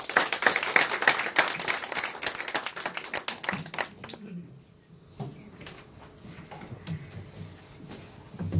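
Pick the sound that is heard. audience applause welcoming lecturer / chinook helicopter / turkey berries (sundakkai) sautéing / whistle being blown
audience applause welcoming lecturer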